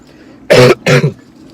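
A person coughs twice in quick succession, two loud, harsh bursts close to the microphone, with quiet between them and no talk around them.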